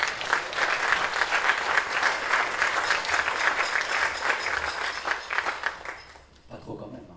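Audience applause at a jazz festival concert in a wooden theatre, a full, sustained clapping that holds steady for several seconds and then fades out, followed by a brief moment of speech.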